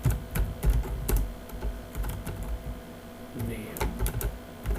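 Computer keyboard typing in a lesson on writing a program that takes name and amount input, with rapid irregular clicks and clusters of keystrokes running steadily through the moment, close and clear.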